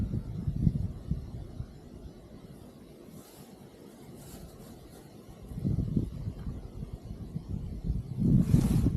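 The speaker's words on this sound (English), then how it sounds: "Windy day." Wind gusts roar and buffet the microphone outdoors on an off-grid farm, swelling and easing in loud surges with no talk.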